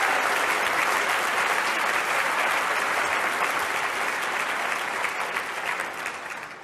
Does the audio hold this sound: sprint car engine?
no